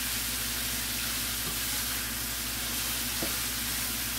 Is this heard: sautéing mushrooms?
yes